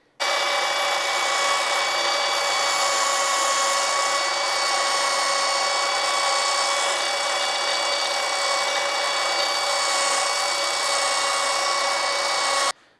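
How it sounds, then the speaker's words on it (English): A power sander with a soft polisher pad and 180 grit paper runs steadily across a wooden box to flatten it, a close, constant high whir lasting about thirteen seconds before cutting off. "I'm going to now sand off these little ledges that are left and just sand the whole box flat."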